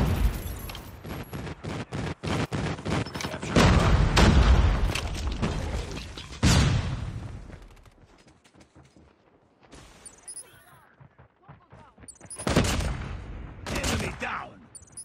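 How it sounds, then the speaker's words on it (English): Video game firefight with a friendly airstrike, rapid bursts of gunfire building into heavy rumbling explosions, then a quieter lull before more shots and blasts. "Friendly airstrike incoming."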